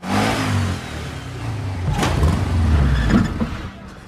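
An off-road vehicle engine in an action film revs hard, loud and close, with rising and falling accelerations and a sharp bang partway through before the roar eases toward the end.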